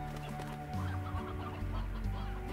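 Chickens clucking in the video game Slime Rancher, a busy run of close, overlapping clucks and soft squawks with no talk over it.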